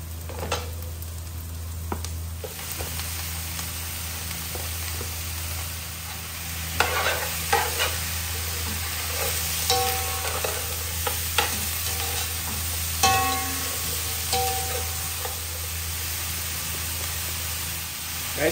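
Chicken feet frying with garlic and onions in a pan give off a low steady sizzle, broken by louder stirring scrapes and clatters at intervals, close by and with no one talking.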